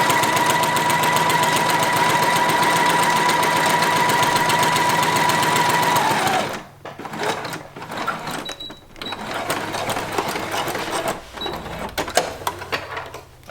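A sewing machine stitches down the length of a fabric face mask with a loud, steady whirring run for several seconds. It then stops abruptly, leaving scattered light handling clicks and rustles.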